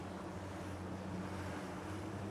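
A boat with a Suzuki 250 hp outboard engine runs at sea, a steady loud drone blended with wind and water rush, continuous and close with no pauses.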